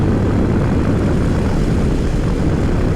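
A Yamaha 700 motorcycle engine runs steadily while being ridden, a loud, continuous broadband roar mixed with wind rush and no break or change over the few seconds.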